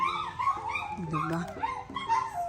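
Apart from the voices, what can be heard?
dog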